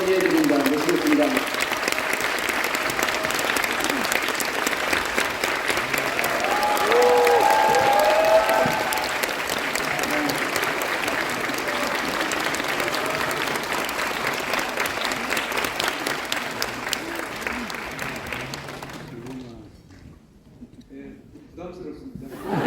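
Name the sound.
audience applause welcoming a speaker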